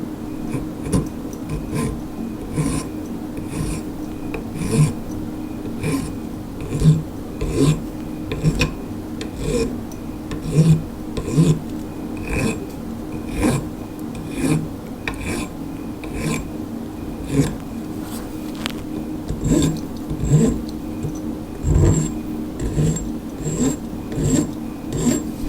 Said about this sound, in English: now I'm just going to use a file and just get rid of some of this burr.